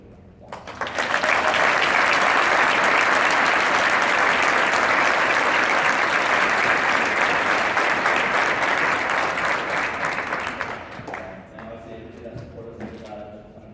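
A Hall of Fame induction ceremony audience breaks into loud, sustained applause that swells quickly, holds steady for about ten seconds, then fades away while a voice begins speaking.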